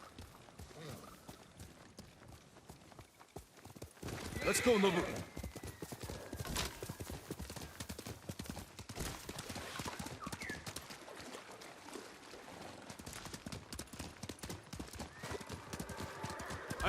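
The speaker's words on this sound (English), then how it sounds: "You're a good horse" Horse hooves clip-clop at a steady trot in the Ghost of Tsushima video game, with occasional whinnies and a voice speaking over the hoofbeats, which stay moderately close and continuous.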